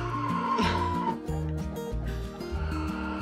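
Olive Egger and Easter Egger chickens, a pullet and an older hen, clucking and murmuring close by, a steady run of low throaty calls with a few brighter squawks mixed in.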